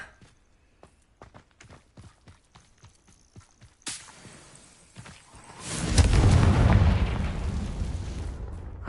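A Confringo blasting spell explodes in Hogwarts Legacy, a sudden burst after light footsteps that swells into a loud, sustained rumbling roar carrying on to the end.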